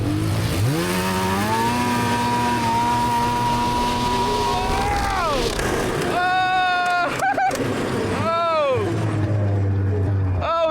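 A snowmobile that had sunk in a lake, revving hard on the throttle with a rising, whining engine pitch that climbs and drops, close and loud, amid excited shouting voices.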